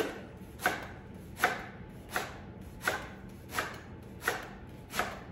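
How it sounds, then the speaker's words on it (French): A knife chops leek on a cutting board for vegetable soup, landing about eight evenly spaced, crisp close-up strokes in a steady rhythm with no talk. "Après, le poireau, on va couper. Puis, on va hacher."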